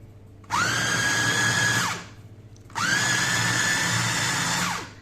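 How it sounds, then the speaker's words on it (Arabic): A food processor minces chicken liver and gizzards finely, two loud whining pulses of motor about a second and a half each, separated by a short pause. "هنفرم طبعا فرم ناعم، هو هيتفرم معانا على طول"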